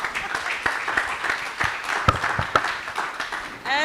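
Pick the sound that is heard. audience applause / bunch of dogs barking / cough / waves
audience applause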